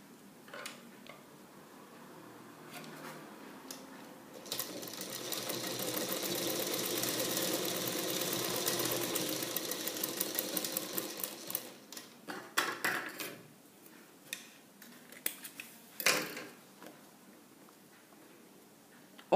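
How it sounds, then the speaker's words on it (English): A sewing machine stitches piping onto a garment neckline with a quarter-inch seam allowance, running in a steady mid-level whir for several seconds, then breaking into short bursts and irregular clicks as the fabric is adjusted. "match the pieces and stitch with 1/4 inch of seam allowance"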